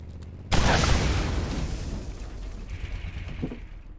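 Revolver gunfire in the video game Borderlands: one loud, sudden blast that rings out and decays slowly over several seconds, with a fainter pop near the end.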